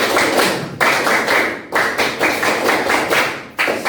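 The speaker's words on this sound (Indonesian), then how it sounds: "Tepuk konsentrasi." Rhythmic group clapping in a classroom, a 'tepuk konsentrasi' concentration clap pattern during a coding and artificial intelligence lesson: close, loud bursts of synchronized claps in repeated phrases with short breaks between them.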